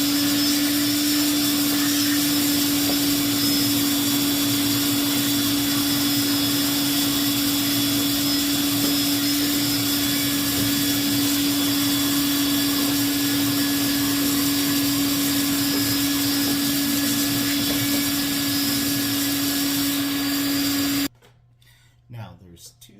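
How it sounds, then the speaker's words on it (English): Vacuum cleaner cleaning dust out of a PTAC wall air conditioner unit, a loud steady drone with a strong tonal hum running for about twenty seconds before it cuts off abruptly, leaving quiet handling noise. "you need your vacuum and your stiff brush again. We're going to clean all this out right here before we pull the heating coil out."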